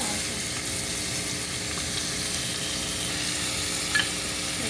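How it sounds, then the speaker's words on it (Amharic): Onions tipped into hot oil sizzle and fry steadily throughout, a dense, continuous crackle close by with no talking. "እዚህ ጋር የጋለ ዘይት አለኝ። ሽንኩርት ጨምራለሁ ማለት ነው።"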